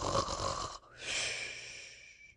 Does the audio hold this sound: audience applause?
no